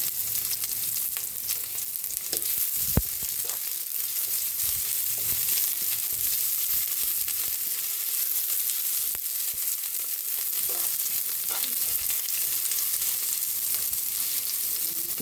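Garlic and onion sautéing in a pan for pinakbet give a continuous, even sizzle from start to finish, broken only by a few soft stirring knocks, with no talking.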